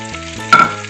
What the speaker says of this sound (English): We're going to sizzle them, get them crispened up on the outside